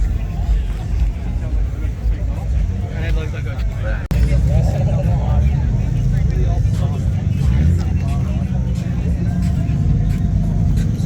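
Holden VL Turbo engine at a Christmas car meet, a steady low rumble that grows louder and fuller partway through, with crowd chatter and voices nearby.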